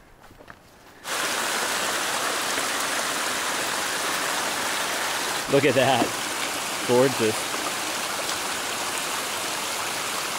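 A mountain stream on the Timberline Trail rushes in a steady, loud, close wash of water. A person briefly speaks over it.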